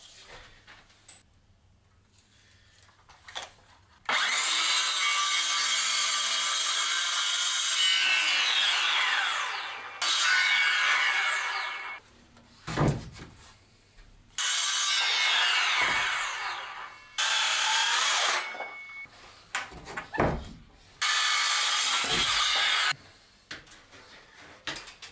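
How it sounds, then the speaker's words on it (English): Wooden wall studs being notched with a power saw in a building space, heard as several loud bursts of cutting, each a few seconds long, separated by pauses with knocks and handling of wood, without talk. "So we'll just have to notch the studs off."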